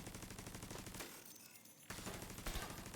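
Rapid automatic gunfire from the video game The Division 2 rattles in fast bursts, breaking off for under a second before the firing resumes.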